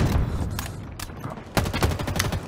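Bursts of automatic gunfire from the Halo video game crackle in rapid clusters, loud and close, with sharp individual shots breaking through a dense battle din.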